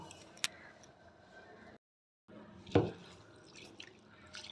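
Red masoor lentils are rinsed in water in a kitchen: soft drips and small splashes with a couple of sharper clinks, broken by a short silent gap.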